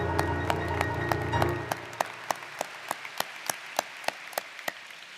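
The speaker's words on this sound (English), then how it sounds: "Can we give them another round of applause" Applause from a university baccalaureate ceremony audience at Stockton University: a loud, dense burst of clapping fades after about a second and a half into scattered, distinct individual claps.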